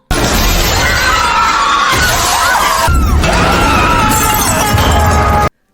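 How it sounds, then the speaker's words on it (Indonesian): A glass dance floor in a film scene gives way under heavy stamping feet, a loud continuous shattering crash that fills the whole stretch, with screams mixed in before it cuts off abruptly. "Karena banyaknya hentakan kaki yang keras, akhirnya lantai kaca itu jebol."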